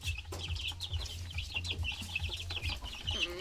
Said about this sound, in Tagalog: pag natunog silang ganyan friendship, yun yung sign na mangitlog na sila.